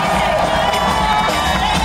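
A large stadium crowd roars and cheers during a cheerleading show at a baseball game, a loud, unbroken wall of shouting voices close around.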